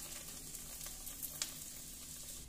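Faint, steady sizzling of parotta flatbread roasting in about two teaspoons of oil on a pan, with a soft crackle partway through.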